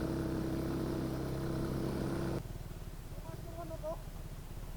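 A motorcycle engine drones loud and steady on a steep uphill climb, then drops abruptly to a quieter rumble with voices talking over it.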